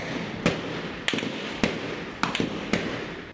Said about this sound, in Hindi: हथियारबंद सुरक्षा बल निहत्थी भीड़ पर ताबड़तोड़ गोलियां बरसाते दिखे।